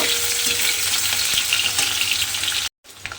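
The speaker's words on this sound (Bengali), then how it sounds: "সেই পনিরগুলো প্রথমে আমি তেলের মধ্যে দিয়ে একটু হালকা করে ভেজে নেব।" Paneer pieces fry lightly in hot oil with a loud, close, continuous sizzle and crackle, cut by a brief moment of silence before the frying resumes.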